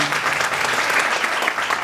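Steady, dense clapping fills the hall as an audience applauds at a Bangladesh Pharmacist Forum gathering for World Pharmacist Day 2025, loud and sustained throughout.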